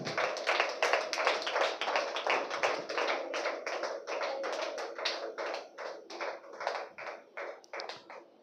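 Rhythmic hand clapping from an audience at a church gathering, brisk and even, steady throughout with no talk over it.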